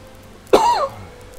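A single close, sharp cough bursts out and tails off into a brief throaty rasp, standing alone against quiet room noise.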